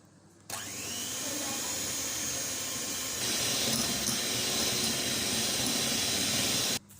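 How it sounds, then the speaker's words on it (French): An electric mixer whisks soft butter with brown and white sugar in a mixing bowl for cookie dough, a steady close motor whir that starts abruptly, runs evenly for about six seconds and cuts off. "Je fouette et j'incorpore bien le sucre au beurre."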